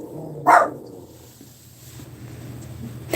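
Dogs give one sharp, loud bark near the start, then a low steady background hum continues without further barking.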